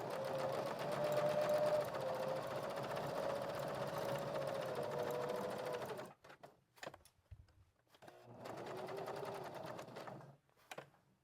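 Sewing machine stitching scraps of fabric into collage fabric, a steady close whirring run for about six seconds, then stopping with faint handling noises before a second short burst of stitching.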